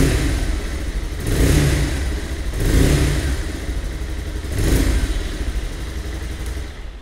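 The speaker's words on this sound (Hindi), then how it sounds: "थोड़ा सा रेव करके देखते हैं बाइक को।" A 2024 Bajaj Pulsar 220F motorcycle engine idles, then is revved several times in rising and falling swells over a steady rumble, close by and fairly loud, with no talking.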